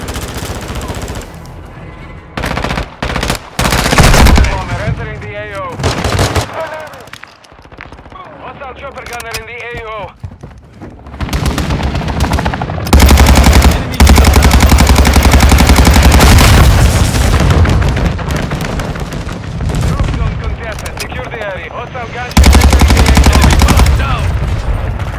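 Bursts of automatic and single gunfire in a Call of Duty: Modern Warfare II multiplayer match on PS5, loud and intermittent with quieter gaps between volleys.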